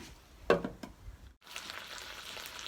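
Special fried rice sizzles softly in a pan being covered: a few sharp clattering knocks come first, then a brief hush, and a faint, steady sizzle follows.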